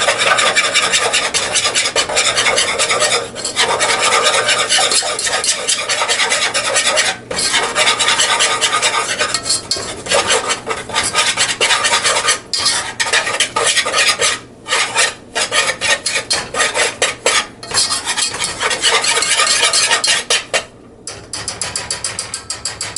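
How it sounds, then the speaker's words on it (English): Steady raspy scraping of a whisk working a thick mac and cheese sauce for baked lobster macaroni, continuous and close for about twenty seconds with brief pauses near the end. "And then we're going to whisk that together for 2 minutes."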